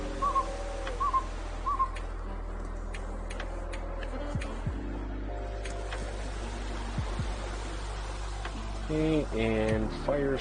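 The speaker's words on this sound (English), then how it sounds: "Oh, I hear bird song." Birdsong in the wintry survival game The Long Dark, with a few short whistled chirps early on over a steady ambient hum and scattered ticks and clatter.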